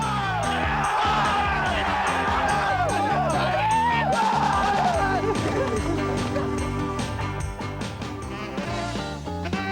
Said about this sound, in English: the crowd went nuts